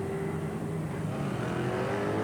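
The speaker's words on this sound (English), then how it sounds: "114 rumbles down the pit lane" A Lexus race car, number 114, rumbles down the pit lane during qualifying for the Total 24 Hours of Spa 2018, a steady close low engine drone with a faint rising whine.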